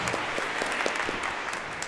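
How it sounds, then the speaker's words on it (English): A round of applause from the audience at a Founder's Day prayer service, brisk steady clapping from many hands throughout, with no voices over it. "So can we give Honey Alvin a big round of applause?"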